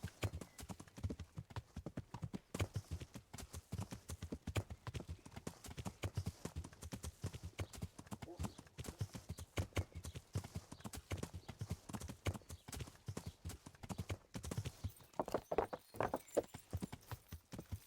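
Rapid horse hooves in a video game clip-clop in a steady galloping rhythm, continuous and somewhat faint, with a brief whinny-like sound near the end.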